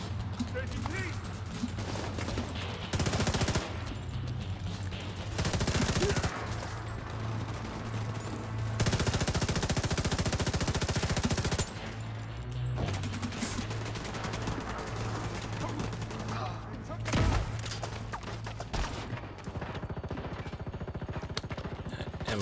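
Sustained gunfire in The Division 2, aimed at an enemy rocket launcher, with dense repeated bursts and loud volleys continuing throughout over a steady low game hum.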